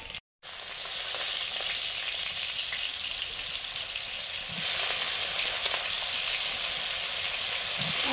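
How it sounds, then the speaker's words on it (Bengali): Vegetables, including potato and green banana, frying in hot oil in a home kitchen, giving a loud, steady sizzle after a brief silent start and growing somewhat stronger midway, with no talking. "সবজিগুলো ভেজে নেব।"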